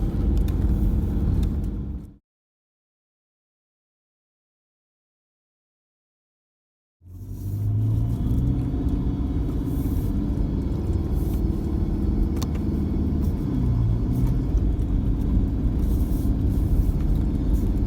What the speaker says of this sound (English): Cruising up the hill, we are nearly to the top